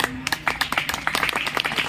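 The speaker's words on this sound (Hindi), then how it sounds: "भैया के सम्मान में ताली बजाइए।" Crowd claps at a kavi sammelan poetry gathering held at a college during Holi, a lively, uneven patter of many hands with sharp individual claps standing out, fairly close.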